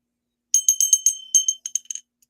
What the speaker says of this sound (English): you hear lots of bells